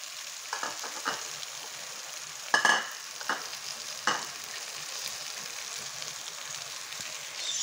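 Sopas frying and being stirred in a pot, with a soft steady sizzle and a few sharp scraping clinks of the spoon against the pot, fairly quiet and near, with no voices.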